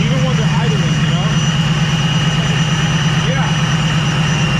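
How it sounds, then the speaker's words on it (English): Loud car engines idle together in a steady, deep, unbroken rumble with a throbbing low pulse, close by, with faint voices underneath. "they're loud as fuck, even when they're idling"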